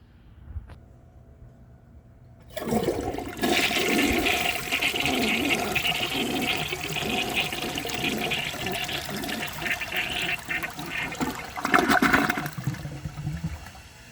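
A 1978 Peerless toilet flushes with a loud, steady rush of water lasting about ten seconds, swelling briefly near the end before draining away.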